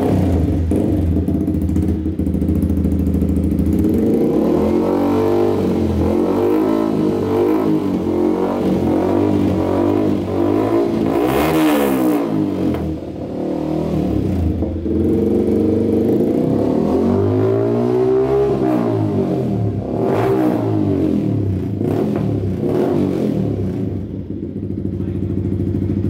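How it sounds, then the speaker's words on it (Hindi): A Yamaha R15 v3 motorcycle fitted with a loud aftermarket exhaust revs repeatedly up and down, close and loud, with rising and falling engine pitch throughout and short pauses between bursts. "यार, ये वाला एग्जॉस्ट बहुत ही ज़्यादा लाउड है"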